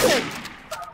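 Gunfire in the multiplayer game Trouble in Terrorist Town: a loud, close burst of shots opens the moment, then quickly fades into quieter ambient game noise with a few faint later pops.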